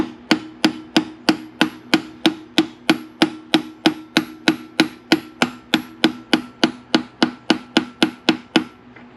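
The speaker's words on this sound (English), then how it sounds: "all you do is you take a hammer and lightly tap it." A hammer lightly taps a bearing onto the shaft of a Ford Fiesta/Focus automatic transmission, about thirty crisp, evenly spaced metallic taps in a steady rhythm, close and clear with no talking.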